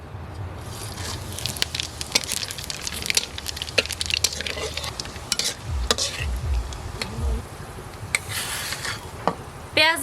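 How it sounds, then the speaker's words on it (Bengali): Black cumin and whole garam masala spluttering in hot oil left from frying katla fish, a dense crackling sizzle with the scrape and clatter of a spoon stirring the pan. "মাছ ভাজা তেলের মধ্যে এখন কালো জিরে আর গোটা গরম মশলার ফোড়ন দিয়ে দেব।"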